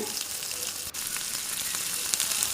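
Onions and curry leaves fry in hot oil for a bottle gourd curry, giving a dense, close, continuous sizzle with a light stirring tap or two and no talking.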